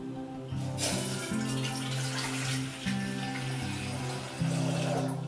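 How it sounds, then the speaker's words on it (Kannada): Water pours from a tap into a pot on the stove before sugar goes in for a syrup, a steady, close gushing stream lasting several seconds with no talk. "ಸಕ್ಕರೆ ಹಾಕೋದಕ್ಕೂ ಮೊದಲು ನಾವು ನೀರು ಹಾಕ್ತಾ ಇದ್ದೀವಿ"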